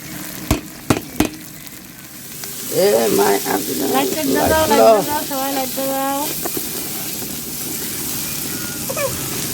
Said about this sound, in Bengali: এই যে মশলা ভাজা তার দিকে আমাদের মশলা প্রায় ভাজা